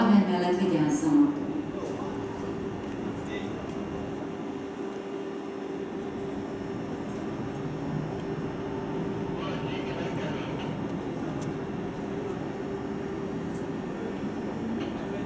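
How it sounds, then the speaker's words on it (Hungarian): A Borsod InterCity train arrives from Miskolc at Budapest Keleti station with a low, steady rumble and hum of rail cars under a station echo, and a faint announcement voice near the start. "Borsod Intercity vonat érkezik Miskolc felől a 4. vágányra."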